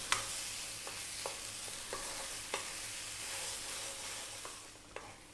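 Tomato and spices for Ethiopian alicha atta fry in a pan with a soft, steady sizzle, broken by a handful of sharp spoon scrapes and taps of stirring, close and fairly quiet, with no talking.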